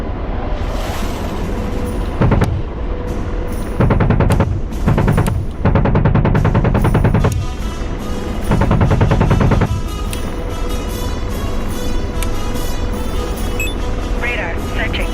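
Aircraft guns firing in a Syria combat video game, several loud rapid bursts of a few seconds each over steady engine drone, with a voice talking throughout.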